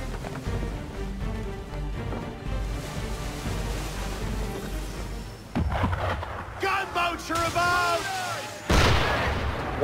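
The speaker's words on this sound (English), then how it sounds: "Why is he shooting at us?" An enemy ship fires its cannons in the Assassin's Creed 3 game: deep, rumbling booms roll under a steady din of wind and sea, and people talk in the second half.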